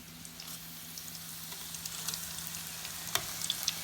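Scotch eggs frying in oil, a steady close sizzle with a low hum beneath and scattered crackles and pops, one sharper spatter near the end as they are turned.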